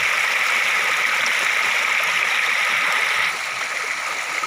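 Steady rushing of a flowing stream, close and continuous, a broad watery hiss that eases slightly near the end, with no voices.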